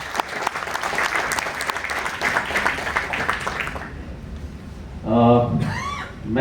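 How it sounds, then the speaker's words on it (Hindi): Loud applause from a crowd at a blood donation awareness talk in Indore, dense and sustained for about four seconds before fading, followed by a voice speaking. "जोरदार तालियां दोस्तों।"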